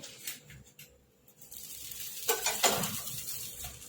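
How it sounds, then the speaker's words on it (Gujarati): Pav buns roasting in butter on a hot pan for dudhi pav bhaji, with soft sizzling and a few scraping touches as the bread is flipped; the frying swells louder in the second half, with no talk. "પાઉં મૂકીને શેકી લઈશું આપણે પલટાઈ લઈશું"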